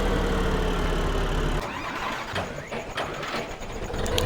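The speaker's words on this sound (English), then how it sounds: "We're gonna buy this 105 because it's a caged in tractor and it was meant for logging" A caged logging tractor, model 105, in the video game Farming Simulator 2015, gives a steady engine drone that shifts to a rougher idle with rattling, fairly loud with no talking.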